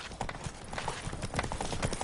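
Rapid clip-clop of a horse galloping in the video game The Witcher 3, a dense, even rhythm of hoofbeats over ambient game sound.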